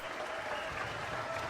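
People clap in a scene from the movie CODA, a soft, even wash of applause from a crowd at moderate distance, continuous and fairly quiet.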